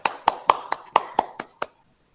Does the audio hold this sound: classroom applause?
yes